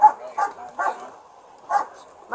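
A dog barks in short, separate bursts, three in quick succession and then one more after a pause, at moderate distance, with a slightly whiny edge during a police encounter in a public place.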